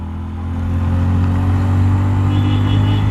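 A 10 bhp commuter motorcycle ridden in second gear: a deep, throbbing engine drone that swells over the first half second, then holds a steady, loud pull with no voices.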